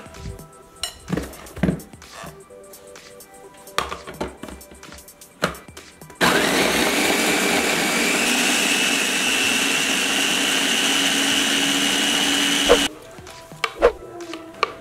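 An electric blender grinds chili spice paste for a spicy chicken-feet soup with a loud, steady whir lasting about six seconds. Clinks and kitchen knocks of dishes and utensils come before and after it.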